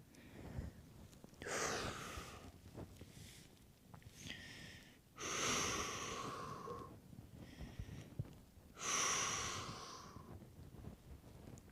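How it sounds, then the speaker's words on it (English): Deep breaths during a relaxing pause in a full-body flexibility stretch, three slow, loud inhale-exhale cycles close to the microphone with quiet gaps between them and no speech. "Take a couple deep breaths."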